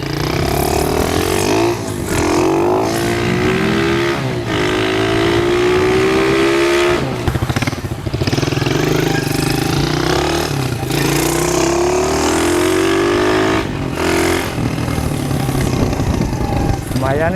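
An HSX 110 manual mini trail motorcycle rides in first gear, its small engine revving up and dropping back repeatedly in loud, close rising whines, with brief gaps between pulls.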